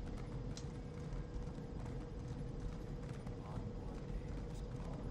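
Horse hooves clip-clopping in the video game Elder Scrolls Online, a continuous rhythmic trot with faint tack and mechanical rattles, steady and close throughout.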